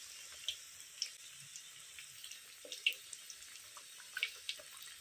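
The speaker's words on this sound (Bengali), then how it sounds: "এবার চপটা দিয়ে দিচ্ছি। প্রথমে হালকা ভেজে নিচ্ছি" Bengali-style aloo chop, potato fritters, frying in hot oil in their first light fry, a faint steady sizzle with scattered small crackles and pops at an irregular pace and no talking.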